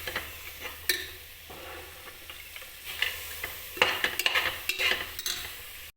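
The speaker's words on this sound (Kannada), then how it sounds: "ಇದನ್ನು ಚೆನ್ನಾಗಿ ಮಿಕ್ಸ್ ಮಾಡಬೇಕು." A spoon stirs soaked peas into a rice mixture for bath in a pot, making soft scraping and clinking knocks over a faint background hiss. The clatter turns busier toward the end.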